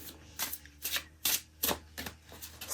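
Aquarian Tarot cards shuffled by hand, a run of six or seven crisp riffling bursts in an even rhythm, close and clear with no talking.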